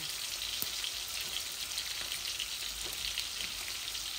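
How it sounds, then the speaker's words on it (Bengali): Onions frying in oil in a pan alongside tilapia fish already browned on one side, a dense, even sizzle like steady rain held close and constant throughout, with no one speaking. "এখন পেঁয়াজ দিলাইমু।"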